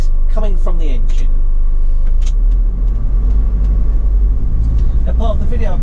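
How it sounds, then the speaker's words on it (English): A 2014 Mercedes Sprinter 313 long-wheelbase diesel panel van idles with a loud, close, steady low rumble, while someone talks over the opening second and again briefly near the end. "let's get the engine starting up"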